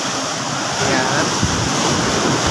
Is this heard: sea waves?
yes